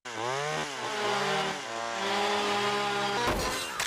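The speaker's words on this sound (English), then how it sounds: "When Peter's chainsaw mishap toppled a tree in the backyard" A cartoon chainsaw revs in a backyard, its whining engine note rising and falling in waves for about three seconds before a sudden crash of noise at the end, with no speech.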